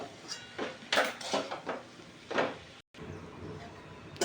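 Poha being stirred with salt in a pan, a spoon scraping and clinking against the metal in irregular bursts, close and fairly loud, with a brief silent gap.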